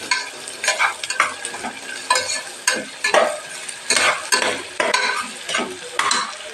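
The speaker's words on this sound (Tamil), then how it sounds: "இது நல்லா வேகட்டும். வெங்காயம் நல்லா கொஞ்சம் ரோஸ்ட் ஆகும்." Onions roasting in a pan while being stirred, with steady sizzling frying and repeated scraping strokes of a spoon at a regular pace, close and clear with no talking.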